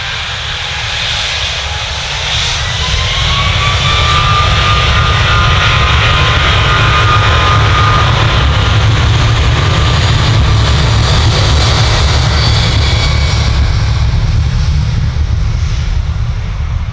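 A Boeing 777 departs runway 23 left at Manchester Airport in the early morning, its engines building to a loud, sustained roar with deep rumble and a rising whine that holds steady and close for the whole stretch.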